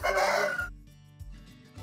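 A large rooster on an Alberta bison ranch crows loud and close in one strained burst, followed by quieter clucking and low farmyard noise.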